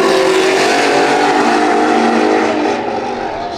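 A BMW and a Mustang drag race at a dragstrip, a loud, roaring engine sound with sustained high-revving tones that gradually fade as the cars pull away.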